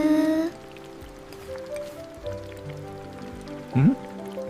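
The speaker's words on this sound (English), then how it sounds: "It's raining." Soft rain patters steadily in the background while a voice speaks briefly at the start and again near the end.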